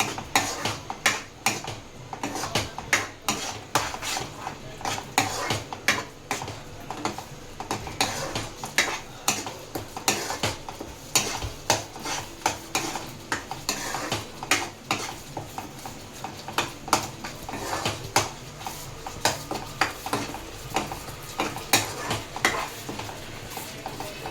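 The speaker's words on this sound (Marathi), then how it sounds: "तसं एकजीव करून घ्या मसाल्यांना" Spoon working masala around a pan for butter paneer masala, a steady, close scraping and clinking with rhythmic knocks against the metal for the whole stretch, a light sizzle underneath.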